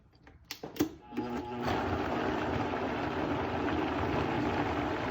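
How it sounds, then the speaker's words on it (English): A Vitamix blender runs on an eggplant dip with olive oil, starting with a few knocks and short bursts before settling into a loud, steady motor whir that continues to the end. "And now we're going to put it into the Vitamix and see if we can make this work."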